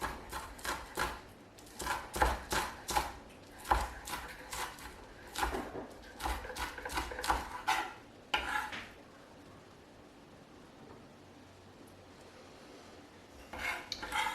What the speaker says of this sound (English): So I like to give these a chop at an angle.